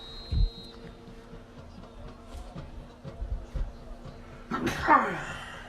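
A single sharp sneeze near the end, heard faintly against the background of a high school football game broadcast booth.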